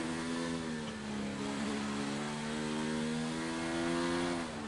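A Formula 2 race car in Australia drives through the final corners, its engine a steady high-pitched drone with slight pitch shifts, heard at moderate distance without talk.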